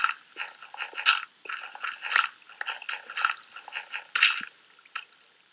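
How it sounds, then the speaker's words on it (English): Dirt blocks being dug in Minecraft, heard as a quick run of soft, crunchy, squishy chops repeating in an uneven rhythm, close and fairly quiet. "I hate digging that dirt."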